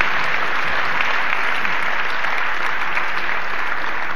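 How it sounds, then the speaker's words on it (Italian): Steady, dense applause from a large lecture-hall audience on Father's Day, loud and sustained throughout without pause. "cominciamo con un grande applauso per tutti coloro che lo sono."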